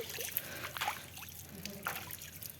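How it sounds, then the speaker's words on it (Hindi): Water is tossed out by hand and splashes and trickles in short bursts, a few wet slaps and drips at close range over a steady background hiss. "ऐसे पानी फेंकते हैं"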